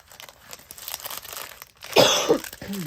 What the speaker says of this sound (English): Man, I got a bad cough.